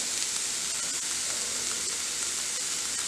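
Grated paneer dropped into a pan of sautéed vegetables sets off a steady, loud sizzle of frying that hisses evenly throughout with no voices.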